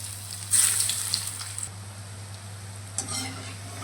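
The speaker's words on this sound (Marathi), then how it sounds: "अशाच प्रकारे मी सर्व वडी तळून घेणार आहे" Alu vadi, colocasia leaf rolls, deep-frying in hot oil. A close, hissing sizzle swells for about a second, then settles to a softer bubbling with a brief metallic clink of a utensil near the end.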